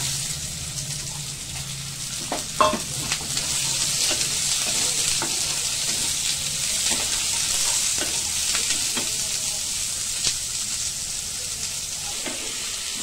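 Onions fry in oil in a pan for a fish curry, giving a steady, moderate sizzle. Intermittent clicks and scrapes from stirring are spread across the whole stretch.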